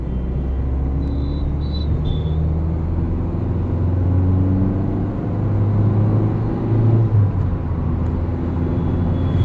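A Ford Figo Freestyle, a small hatchback, accelerates on the road. A steady low engine drone and rumble build with road noise throughout, heard from inside the cabin with no voices.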